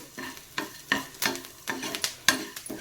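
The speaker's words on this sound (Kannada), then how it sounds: "ಒಂದು ಎರಡು ಕಡ್ಡಿಯಷ್ಟು ಕರಿಬೇವನ್ನು ಕೂಡ ಆ್ಯಡ್ ಮಾಡ್ಕೋತಾ ಇದ್ದೀನಿ ನೋಡಿ ಇದು ಕೂಡ ಗರಿ ಗರಿ ಹಾಕಬೇಕು ಅಲ್ಲಿವರೆಗೆ ನಾವು ಫ್ರೈ ಮಾಡಬೇಕಾಗತ್ತೆ" Curry leaves crackling in hot oil for Udupi-style sambar, close and fairly quiet, with a series of sharp spitting pops and stirring scrapes in an irregular rhythm, no voices.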